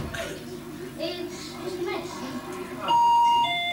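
A novelty doorbell plays a tune, its clear electronic chime notes ringing out loud and sustained near the end, after a stretch of background voices and room noise.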